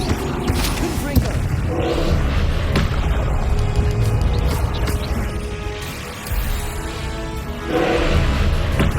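Explosive magic blasts from a Confringo spell in the Hogwarts Legacy game boom and crash amid a loud, continuous battle din of clattering impacts and effects, without audible talk.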